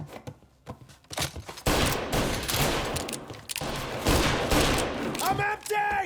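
Frantic gunfire in the Mafia Definitive Edition video game, a quiet opening of scattered shots swelling into loud, dense volleys, with a voice shouting briefly near the end.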